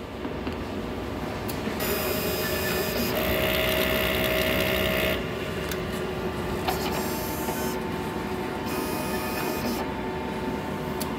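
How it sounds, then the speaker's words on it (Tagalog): An eco-solvent printer whirs and hums steadily as its head cleaning runs, with mechanical shifts, short sprays and clicks, and no talking. "Ganito naman po ang tamang pag-head clean."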